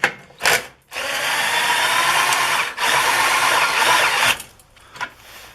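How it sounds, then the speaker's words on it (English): A power drill runs on a long greased screw on an Aliner A-frame camping trailer, giving two sustained, loud whirring runs split by a brief pause, with short start-stop blips before and after. "Let me get the drill."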